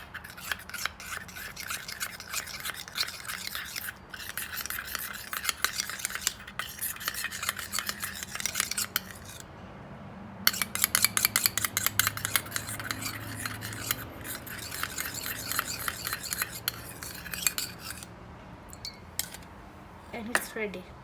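A homemade honey hair and face mask mixed in a small bowl, rapid rhythmic scraping and clicking of a spoon in bursts with a short pause midway, close and fairly quiet.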